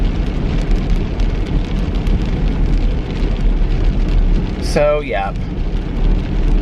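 Heavy rain hisses steadily and loudly over a surface, broken by a brief spoken remark near the end.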